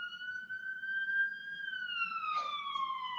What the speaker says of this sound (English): why he playing with his sirens?